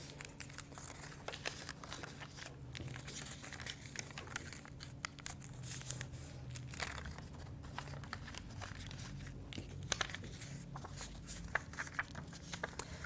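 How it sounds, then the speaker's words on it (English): Paper pages being folded and nested for a handmade junk journal book: soft, quiet crinkling and rustling with occasional light taps and creases, close up and without talk. "So as I'm folding them, I'm just nesting them in the same order"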